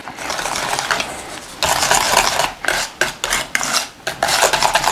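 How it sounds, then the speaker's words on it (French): A spoon or spatula scrapes and folds a mascarpone mixture for tiramisu in a bowl, giving close, rasping strokes in uneven bursts with short pauses between them. "il va falloir mélanger le tout. On mélange ça délicatement."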